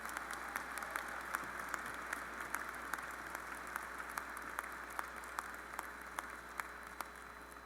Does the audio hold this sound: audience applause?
yes